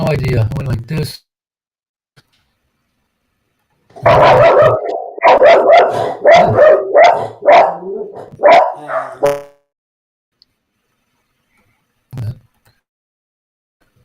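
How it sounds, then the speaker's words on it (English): An angry dog barks in a rapid, loud burst of harsh barks close by. Someone speaks briefly before it, and a single short sound follows after a pause. "It's a pissed off sounding dog there"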